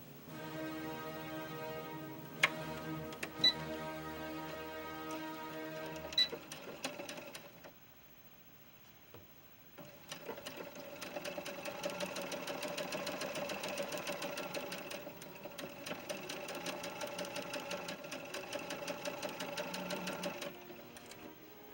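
A sewing machine stitches along the hem of a silver jacket, a short humming run, a pause, then a long steady rapid whir of stitching at close range.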